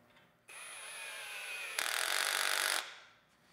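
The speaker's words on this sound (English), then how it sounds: "Use an electric screwdriver" An electric screwdriver drives a set screw into a railing connector on a Sprocketlock post. A steady motor whir is followed by a louder, rougher grinding burst as the screw tightens, then it winds down to quiet.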